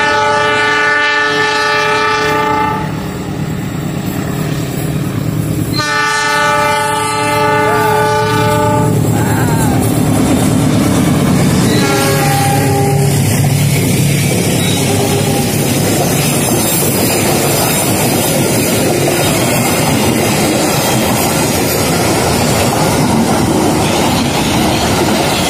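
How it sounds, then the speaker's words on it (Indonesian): Argo Parahyangan passenger train rounding the big curve at Padalarang, loud and close, with long horn blasts at the start followed by a sustained rumble and clatter of wheels as the carriages roll past. "KA Argo Parahyangan melintas di tikungan besar Padalarang."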